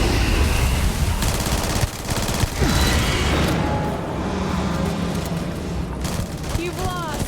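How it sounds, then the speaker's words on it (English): Submachine gun fire in the video game Starfield, rapid bursts of shots layered with booms and dense combat noise, loud and continuous, with voices heard among the gunfire. "I like this submachine gun"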